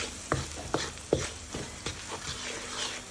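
Fried rice with barbecue spice being stirred in a pan, a spoon scraping and knocking in several sharp strokes over a soft sizzle, close and moderately loud with no talking.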